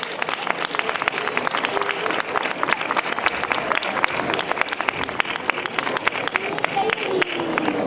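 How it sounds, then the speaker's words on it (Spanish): Sustained audience applause at a grape fair, dense rapid clapping from a crowd filling the space steadily, with a voice talking over it. "Les damos un aplauso a las azafatas que lo están haciendo muy bien."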